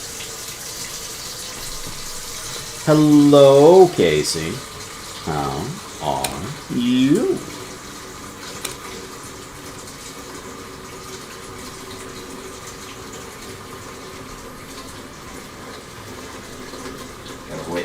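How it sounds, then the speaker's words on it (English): Water running from a faucet into a pot, a steady hiss of filling throughout, with a person speaking briefly over it near the start. "Gotta wait for her to fill with water"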